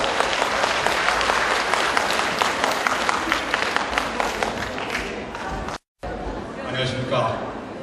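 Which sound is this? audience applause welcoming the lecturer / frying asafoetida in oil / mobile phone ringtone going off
audience applause welcoming the lecturer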